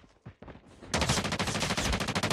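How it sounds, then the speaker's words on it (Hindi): Rapid bursts of automatic gunfire in the Call of Duty multiplayer free-for-all on the Firing Range map, a few sparse shots followed by a loud, continuous close fusillade. "चारों तरफ से गोली चल रही है"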